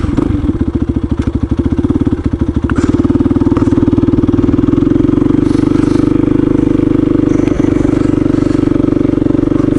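Dual sport motorcycles start up for a group ride, a loud close engine pulsing unevenly at first, then settling into a strong steady drone, with no talking heard.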